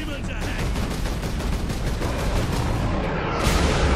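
Rapid heavy gunfire from a large cannon weapon in Warhammer 40K Space Marine, a dense sustained volley of booming shots close up and loud, ending in a sharper blast.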